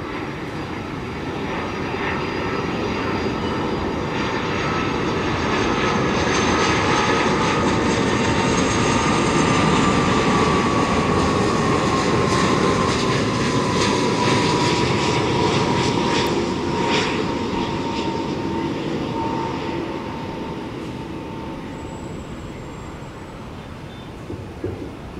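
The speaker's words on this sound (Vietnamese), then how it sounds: "mời mọi người chiêm ngưỡng và hạ cánh của chiếc máy bay đặc biệt này nha" A DHL-liveried cargo Airbus A330-300 lands at Tan Son Nhat airport. Its jet roar holds steady and loud for many seconds, then slowly eases as the engine pitch drifts down.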